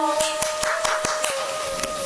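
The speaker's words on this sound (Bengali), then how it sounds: "আবার হাততালি দাও" Sharp hand claps ring out one by one at an uneven pace, each crisp and close, over a steady tonal hum in the background.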